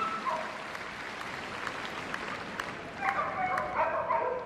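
Applause from spectators at the Crufts 2017 British Open Jumping agility final carries through a large arena, mixed with excited dog barks and yips while a commentator speaks over the crowd.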